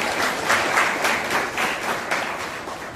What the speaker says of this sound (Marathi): मॅडमचं सुद्धा या ठिकाणी आपण जोरात टाळ्या वाजवून स्वागत करूया